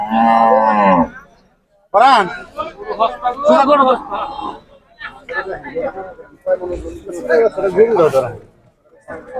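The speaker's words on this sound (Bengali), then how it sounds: "দেখেন গরুটা নামাচ্ছে আর কি" A bull moos loudly and close at a Bangladeshi cattle market while being unloaded, one long low call followed by busy chatter and overlapping voices of the crowd.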